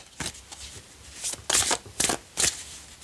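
Tarot cards are shuffled and drawn by hand in a few soft, quick riffling bursts, close and quiet, with almost no talking.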